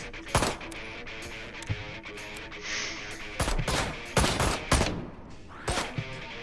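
Rapid gunfire in Ride to Hell: Retribution crackles in sharp bursts and scattered single shots, some close and punchy, others quicker machine-gun rattles, with bullets smacking into surfaces.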